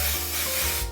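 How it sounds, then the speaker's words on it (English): Camera spray hisses steadily from an aerosol can onto wig lace, a close, continuous spray lasting about a second before it cuts off. "The lace, I think I'm gonna melt it with some of this camera spray too."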